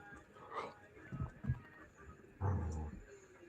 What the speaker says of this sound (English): What are you doing growling up for?